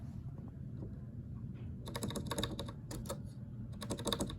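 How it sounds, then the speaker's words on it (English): Someone keys in a staff code and password on a computer keyboard, first a few quiet taps, then quick bursts of close, crisp keystrokes in uneven clusters, with no talking. "So you press F1, put in your staff code and your password."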